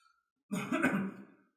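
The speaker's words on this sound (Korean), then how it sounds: "제가 지금 기침을 하는데" One short, close cough, fairly quiet and over within a second, with silence around it and no talking.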